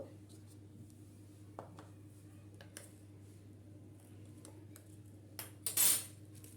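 A spoon mixing olive pickle ingredients, giving a few faint clinks and soft squishy scrapes against a steady low hum, ending in a louder scrape and clatter.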